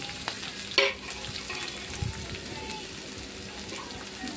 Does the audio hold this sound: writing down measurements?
no